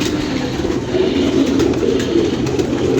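Pigeons coo in a loft or coop, a steady low murmur of overlapping calls, fairly loud and close with continuous background rustle, no speech.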